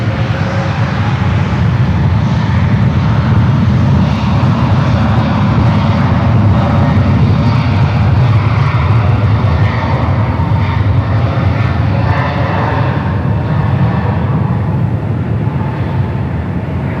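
An Air India airliner takes off from runway 28 right at San Francisco airport with a loud, continuous roar of jet engines that stays steady and close for the whole stretch, with no talking.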